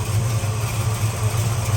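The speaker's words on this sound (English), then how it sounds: "Great sounding dual exhaust." A 1966 Chevelle with a 454 big block idles through dual exhaust, giving a steady, deep, even rumble close by with no talk over it.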